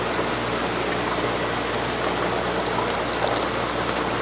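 Water streams steadily into a fish tank, a continuous close rushing trickle with no pauses and no voices.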